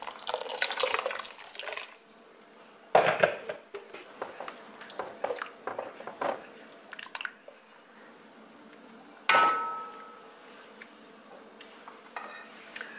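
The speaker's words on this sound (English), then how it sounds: "I'm adding hot water." Hot water is poured into a cooking pot for draw soup, giving a brief splash and trickle, with clinks of a metal pot and utensils and a few sharper knocks, no talking.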